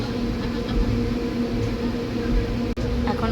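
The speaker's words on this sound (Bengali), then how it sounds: "এখন আলুয়াবাড়ি স্টেশনে ঢুকছে ট্রেন।" Heard from inside a carriage, a train pulls into Aluabari station with a steady, fairly loud rumble and rattle and a brief sharp click near the end.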